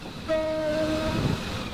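A train in the Roblox railway game Stepford County Railway sounds a clear, sustained horn tone over the low rumble of the moving train, with faint talking in the background.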